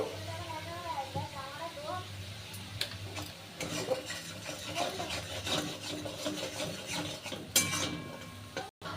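Food in a pan is stirred with a spatula, soft rubbing scrapes and light clinks repeating over a quiet background while someone talks through the first part.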